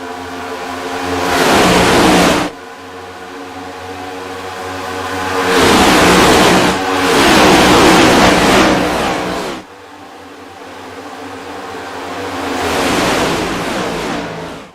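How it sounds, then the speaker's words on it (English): Stock cars in an Australian stockcar championship roar off turn two at Talladega, with engines swelling past in three loud waves as packs go by close, separated by quieter gaps. "listen to these cars roar off turn number 2 first time around"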